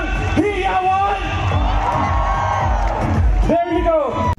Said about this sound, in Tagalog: ang masigabong palakpakan na may kasamang hiyawan